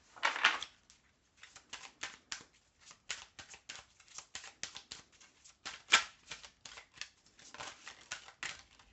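Oracle cards being drawn and handled during a general card reading, soft close papery flicks, slides and light taps in an irregular run, quiet and without talk.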